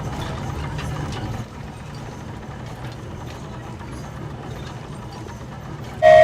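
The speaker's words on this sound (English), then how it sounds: "Choo-choo! Aerial Express moving out." Aerial Express flying train departing in Genshin Impact, a steady rumbling, rattling ride noise that drops slightly in level, then ends with a sudden loud tone.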